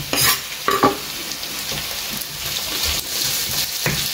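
Finely chopped tomatoes hit softened onions in a hot pan for a paneer dish, giving a steady close sizzle with scraping stirs and clacks of the spoon throughout, no talk.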